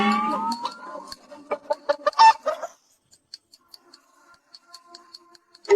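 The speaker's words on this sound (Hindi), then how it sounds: "यह मुर्गी तो कूद भी रही है।" A hen clucks in short, repeated notes, first mixed with a voice and then as sparse, faint clucks on their own.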